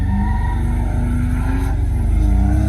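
A supercharged Mazda CX-5 powers hard down a drag race strip, its engine holding a loud, steady throaty drone with rising harmonics as it accelerates, close and continuous with no talking.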